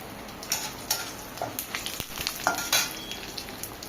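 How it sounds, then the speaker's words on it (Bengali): Cumin seeds dropped into hot oil already holding bay leaf, cinnamon, cardamom and salt, crackling and sizzling in quick irregular bursts at moderate volume. "এবার জিরাটা তেলের উপরে দিলাম।"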